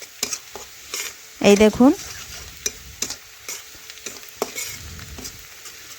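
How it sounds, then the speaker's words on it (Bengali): Red chilli powder fries with onions in a pan, giving a soft, continuous sizzle close by. A spatula scrapes and stirs in repeated strokes, and a voice briefly speaks over it. "এটা এখন একটু ভালোভাবে পেঁয়াজের সাথে মিশিয়ে নিচ্ছি"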